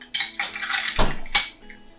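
A spoon clinks and scrapes against a glass vessel while stirring cold yerba mate with lime in a French press, several close, bright knocks and a sharp ring in quick succession.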